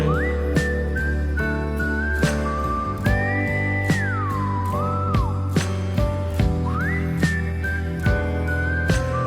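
Melodic whistling rides over a K-pop track, sliding between held notes against steady beats and sustained instrumental layers, loud and continuous throughout.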